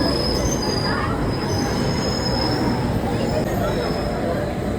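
Metro train wheels squealing at a station, a loud continuous high-pitched screech over a heavy rumbling roar of the train, with people talking in the background.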